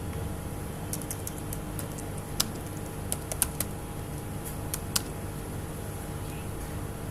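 Light keystrokes on a computer keyboard while writing in Microsoft Word come in short, sparse bursts of clicks, fairly close but soft, over a steady background hum with no speech.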